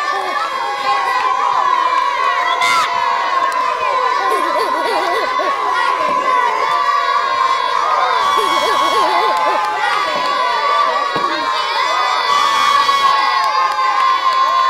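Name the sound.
children cheering on teammates shaking cream into butter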